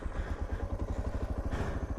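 A Suzuki DR650 motorcycle's single-cylinder engine runs in the desert, giving a steady, rapid thumping pulse at close range with a faint mechanical clatter.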